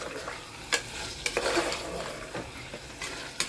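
Tomatoes and green chillies frying for a mutton stew, a steady soft sizzle punctuated by a handful of sharp spoon knocks against the pan, with no talking.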